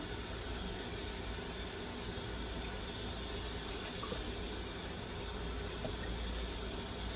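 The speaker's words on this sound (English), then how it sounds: "I'm gonna rinse through it one more time." Tap water runs steadily while hair is rinsed out after wig bleaching, a continuous close splashing wash with no talking.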